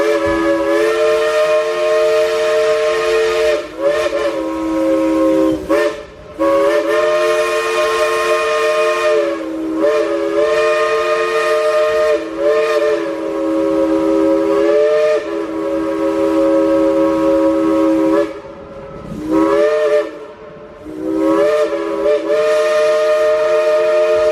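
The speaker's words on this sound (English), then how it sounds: "Blow the whistle." A steam train whistle at Dollywood blows loud and long in repeated sustained blasts, with brief breaks between them and no talking.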